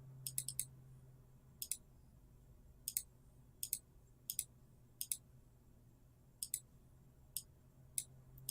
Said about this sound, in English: you can just double click and change to phase 3